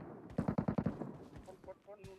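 Gunfire in the video game PUBG Metro Royale: a rapid automatic burst of about six shots, followed by fainter scattered game sounds.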